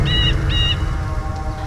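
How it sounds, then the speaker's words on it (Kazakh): A giant cartoon bird gives two short, shrill whistling calls in quick succession over a low rumbling background. "Аяқ астынан болған тосын құбылысқа таңырқап тұрғанда, бір алып құс келіп қонады."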